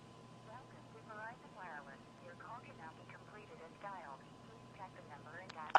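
A phone call dialed to an invalid number reaches a recorded announcement, heard as a faint, thin voice over a steady low line hum, ending in a brief click.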